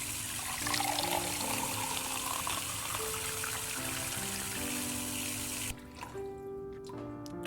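Water running from a kitchen tap into a glass, a steady close pour with tonal ringing as the glass fills, then a brief stop and a few drips and trickles.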